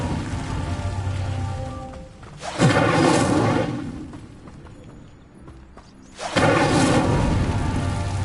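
Two Incendio fire spells are cast in the game Hogwarts Legacy, each a sudden roaring whoosh of flame that flares loudly and fades slowly, spaced several seconds apart over a quiet mechanical background.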